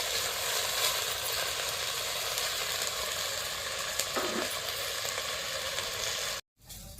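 Mint leaves sizzling in hot oil in a pan for chutney, a steady loud crackling fry that runs unbroken until a brief cut near the end, with no voices.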